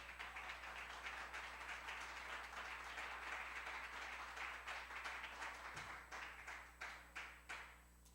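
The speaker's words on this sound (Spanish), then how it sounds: "Dele una ofrenda de palmas a Dios." A church congregation applauding: dense, sustained clapping that thins toward the end into a few separate, louder claps before fading.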